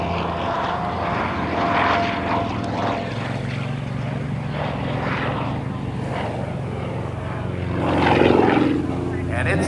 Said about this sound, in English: He's still flying that plane right to the end of the act.